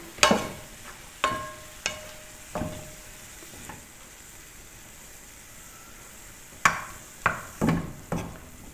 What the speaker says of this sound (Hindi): अब इनको सबको अच्छी तरह मिक्स कर लेना, चीज़ों को अच्छी तरह भून लेना।